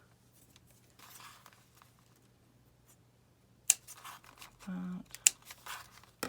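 Scissors snip excess embroidery thread in a few sharp, close cuts, preceded by soft rustling of fabric, with a faint voice in the quiet room.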